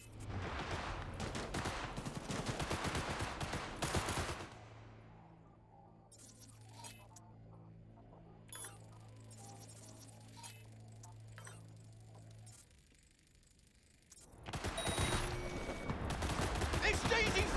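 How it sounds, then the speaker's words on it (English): A gunfire exchange in the video game Cyberpunk: loud bursts of rapid shots at the start and end, separated by a quieter stretch with a steady low hum and scattered clinks. "Exchanging fire!"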